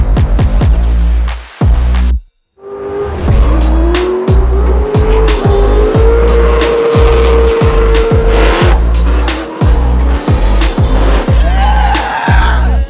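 Drift cars roar past with engines revving hard and tires squealing in long sustained screeches, loud and close, broken by a brief gap before another car slides through.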